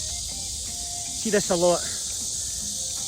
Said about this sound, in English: oh, the cicadas are making a noise, you hear that?